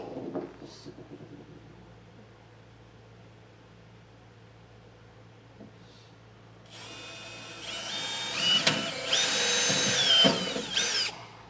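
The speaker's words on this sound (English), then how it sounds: "we'll drill those out to make sure that our brackets line up" A power drill whines loudly into metal while drilling pilot holes for a fifth-wheel hitch on a 2016 Ford F-series truck, rising to a harsh grinding screech after a quiet stretch of faint background noise.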